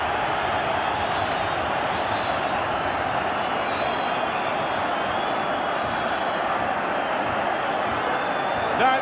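A packed stadium crowd at the 1984 Scottish League Cup Final between Dundee United and Rangers gives a steady, distant roar, with a commentator talking over it throughout.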